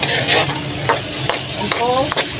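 Ground meat sizzles in hot oil in a pan while a spoon stirs it, cooking the base for sautéed bottle gourd; steady close frying with a few scraping strokes and faint clinks.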